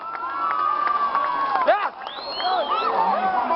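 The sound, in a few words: crowd clapping and cheering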